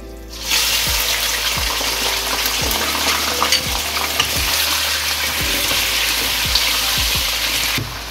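Steady, loud sizzling of 500 grams of chicken frying with spices in a hot pan, with occasional stirring scrapes and low thumps throughout, no talking.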